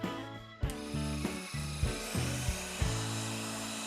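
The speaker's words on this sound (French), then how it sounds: "avec la scie et l'aspirateur, vous n'allez plus rien entendre" A power saw whines and buzzes through wood for small keychains in repeated strokes, its pitch dropping and recovering with each cut, close and steady.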